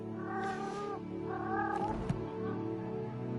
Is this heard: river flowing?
no